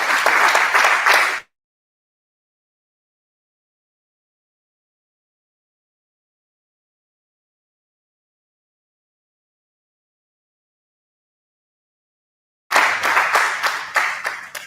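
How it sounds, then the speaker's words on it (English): Audience applause for Mayor Billy Ware at a gathering at Roselawn Center in Danville, a burst of clapping that cuts off, long silence, then clapping resumes at the end. "Give Mayor Billy Ware a round of applause"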